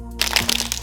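Greaseproof paper crackles and crinkles in short, close, sharp bursts as it is pressed into a regular baking tray.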